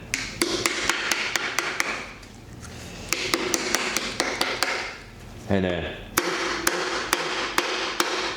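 A hammer taps a piston down into the cylinder bore of a 468 stroker big-block engine, sharp close metallic taps in quick regular runs with brief pauses between them.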